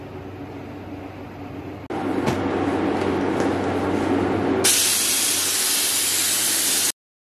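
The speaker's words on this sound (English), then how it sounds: "we'll get some spraying done" A spray gun lays coating onto a masked-off 2017 Jeep Wrangler, a loud, steady broadband hiss that switches on abruptly, grows brighter and harsher midway, then cuts off.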